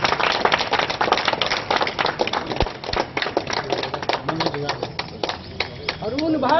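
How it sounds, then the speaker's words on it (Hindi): A crowd claps at a local political gathering in Madhubani, with scattered sharp claps mixed into loud talk and chanting voices; the clapping is intermittent and uneven rather than a sustained ovation. "ताली।"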